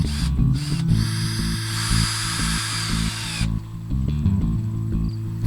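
A power drill drives screws into pre-drilled wooden supports during a greenhouse shed build, with a short burst first and then a longer whirring run before stopping, close and clear with no talk.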